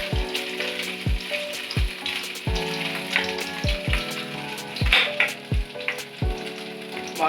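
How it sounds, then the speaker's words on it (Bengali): Pond rohu fish frying in hot oil, a steady crackling sizzle punctuated by repeated sharp clanks of a spatula against the pan, close and moderately loud, with no talk. "মাছটা এতক্ষণ ভাজা হচ্ছে"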